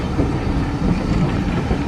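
West Somerset Railway train running, a loud, close rumble of carriages with rhythmic clattering over the rails, continuous and steady.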